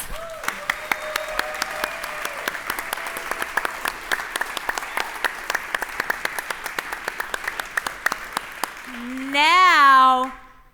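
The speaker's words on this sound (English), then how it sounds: "And now please join me in a round of applause." A room full of guests at the University Club of Pasadena centennial gala bursts into sustained applause, with crisp individual claps close by. It ends in a loud, rising whoop or cheer.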